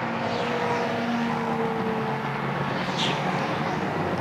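Racing cars at Silverstone, a Porsche 911 against a Mosler MT900, roar past in a steady, loud engine drone that rises and falls slightly with a brief higher whine near the end, with no talking.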